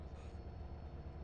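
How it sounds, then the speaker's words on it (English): An L train being driven in a GTA Underground mod, a steady low rumble of rolling rail cars, faint and continuous over a very short stretch. "So yeah, you can drive the L trains."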